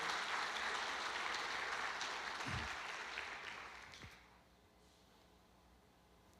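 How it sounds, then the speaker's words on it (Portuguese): A church congregation applauding during a sermon, a broad wash of clapping that fades out over a few seconds, leaving quiet room tone. "Pode aplaudir ao Senhor."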